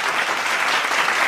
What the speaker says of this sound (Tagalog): Mga kababayan po yan ng mga Duterte, nagsisigawan na yan.